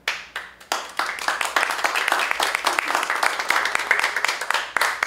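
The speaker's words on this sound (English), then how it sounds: "The only applause we get." Clapping at a high school senior awards evening: a few sharp, separate claps at first, then thicker, fairly close applause from a modest group that keeps going steadily to the end.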